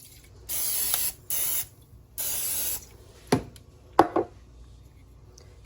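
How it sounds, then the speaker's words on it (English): Three bursts of hissing cooking spray, close and loud, followed by a few clattering, clicking knocks. "let's add some spray"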